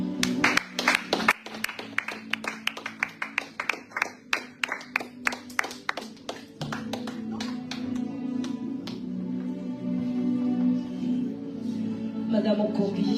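A church congregation claps in rapid, rhythmic bursts for about six seconds, then the clapping gives way to sustained loud singing and voices with musical accompaniment.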